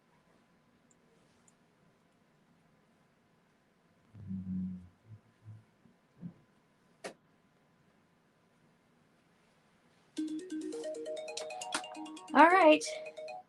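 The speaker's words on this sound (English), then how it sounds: "that's my alarm going off for my 30 minutes." Timer alarm going off at the end of a 30-minute sewing session, a few seconds of repeating electronic tones following a brief spoken word and some quiet handling noises.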